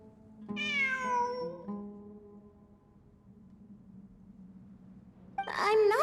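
A cat meows in the Genshin Impact game, with a long rising-falling meow near the start and another sharper meow at the end, fairly close and clear over a quiet background.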